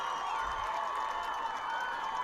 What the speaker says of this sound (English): Listen to that Milford crowd